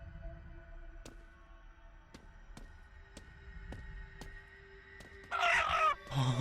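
Clucking from a chicken in the horror video game Chicken Feet, a string of short sharp clicks at a steady pace, ending in a loud, louder burst of squawking or crowing near the end.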